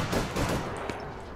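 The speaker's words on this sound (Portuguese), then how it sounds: "Consegui dar um tiro nela." Dense, continuous gunfire from the video game APB Reloaded roars steadily and loudly, filling the whole moment with rapid shots and no talk over it.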